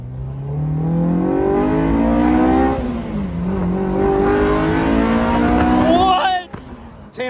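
A Honda S2000 sports car engine revs and drones steadily with rising and falling pitch, loud and close, ending with a sharp burst of higher revs.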